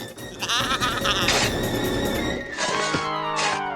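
An animated cartoon goat bleats loudly and close by, several wavering cries in a row, against a busy background.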